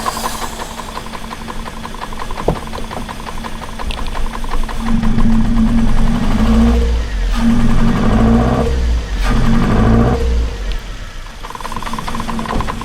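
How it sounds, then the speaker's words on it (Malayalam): A Maruti Suzuki Ertiga engine with a 343cc-related fault runs roughly on a single cylinder, idling with an uneven knocking beat and then revving in heavy, lumpy surges, heard close with a voice talking partway through. "എൻജിൻ സ്റ്റാർട്ടായി നിൽക്കുന്നുണ്ട്, പക്ഷേ സിംഗിൾ സിലിണ്ടറിലാണ് എൻജിൻ വർക്ക് ചെയ്യണത്."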